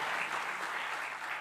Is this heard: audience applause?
yes